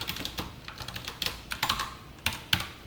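Steady, close typing of JavaScript code on a computer keyboard, with brisk uneven clicks and a few harder key strikes. No one speaks.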